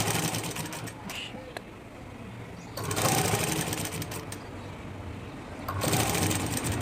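Sewing machine stitching the neck lining of a blouse, a steady, close, buzzing run that keeps going with brief dips and surges in speed.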